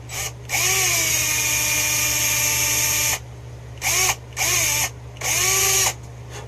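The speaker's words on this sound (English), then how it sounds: "Got to drill this one." A power drill whines in several bursts while drilling into a prop headset, one long run followed by three shorter ones, with the motor pitch rising and falling, close by over a steady hum.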